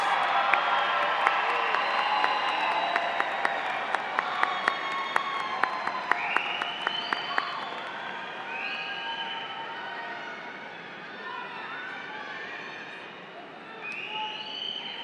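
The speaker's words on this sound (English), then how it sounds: "give them a round of applause" A large commencement crowd gives a sustained round of applause and cheering in a big venue. The dense clapping carries scattered whoops, with sharp claps standing out early, then slowly thins.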